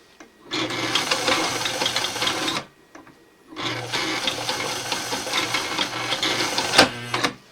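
Sewing machine straining through heavy camo material, running in two long loud bursts separated by a short pause, with a sharp clunk near the end of the second run.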